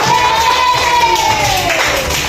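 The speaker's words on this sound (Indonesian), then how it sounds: "tepuk tangan untuk Gus Adin" Students in a fourth-grade primary school classroom clap together in a steady, dense burst of applause, loud and close, with a faint whistling tone gliding through it.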